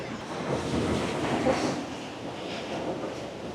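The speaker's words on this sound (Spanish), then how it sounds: "cada vez que el mar da en la roca suena como si se fuera a caer el mundo" Heavy sea waves crash against the rocky coast of Cantabria near a seaside hermitage, a broad continuous roar that swells around the middle and then settles into a steady wash, with no voices.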